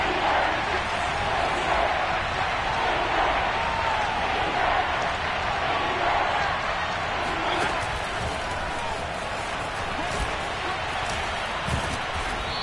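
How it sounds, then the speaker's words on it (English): A football stadium crowd roars steadily before a big third down in a WIC vs 49ers game, a loud, continuous wash of cheering that fills the whole stretch without easing. "The crowd getting into it as we come up on a big 3rd down."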